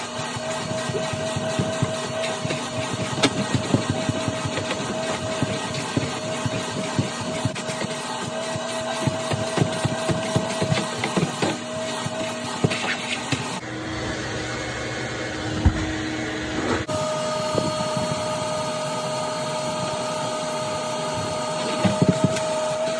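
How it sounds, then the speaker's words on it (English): A vacuum cleaner runs continuously inside an EK hatchback, cleaning the carpeted interior with a steady droning whine, its pitch shifting briefly midway and punctuated by scattered knocks as the nozzle moves around. "now we're just gonna give it a quick vacuum"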